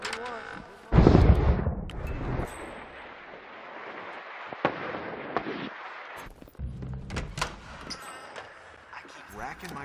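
Fireworks in the video game Hitman go off with a heavy booming blast and rumbling crackle, followed by scattered thuds and bangs, while voices talk over the game sound.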